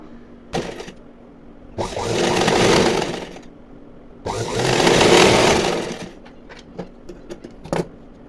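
A sewing machine stitches a hook-and-eye strip in two steady bursts of fast rhythmic whirring, each lasting about two seconds, with clicks and handling sounds of the fabric between and after them.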